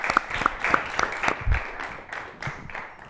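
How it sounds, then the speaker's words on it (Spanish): A conference audience applauds a keynote speaker, a short burst of scattered claps that thins out and fades within a few seconds. "les pido que por favor recibamos a Valentín Salgado con un fuerte aplauso"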